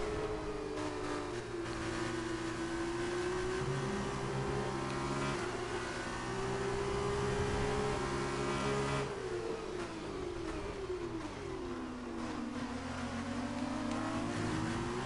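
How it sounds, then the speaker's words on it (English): An F2 race car in F1 2019 at the Australian Grand Prix revs hard and steadily up close, its engine pitch climbing and dropping through gear shifts across the whole stretch, with no talk. "First time driving this F2 car."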